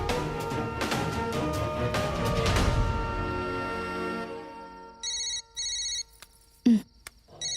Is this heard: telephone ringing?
yes